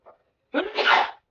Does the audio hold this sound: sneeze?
yes